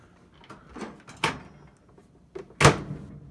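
An Emerson microwave door with its handle broken off is pulled open by hand. A soft shuffle comes first, then two sharp thumping clunks of the latch and door close by, with quiet pauses between them and no talk.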